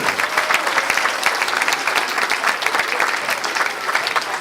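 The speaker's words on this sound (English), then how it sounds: "Let's give it a big round of applause." A crowd at a Hindu temple children's annual day event claps in sustained, dense applause, loud and even throughout without voices standing out.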